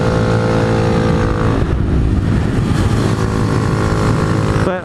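Motorcycle fitted with new RaceTech suspension and a KW rear shock being ridden on twisty roads, a loud, close, sustained engine drone with wind rush that shifts slightly in pitch as the throttle changes.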